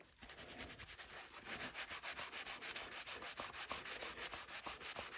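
Scrubbing dirt off the worn leather handle of an old fillet knife during a restoration, a quick run of rhythmic rubbing strokes, close and faint.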